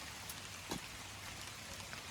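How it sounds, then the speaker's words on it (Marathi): Rain falling outdoors during tree planting in the monsoon season, a steady soft patter of drops on leaves and ground with a faint brief splash, low and continuous with no talking. "पाऊस आला भिजायला झालं"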